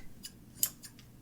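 Scissors trim fabric while a waistband is sewn: a few quick, crisp snips close by, the third one loudest, all within about a second.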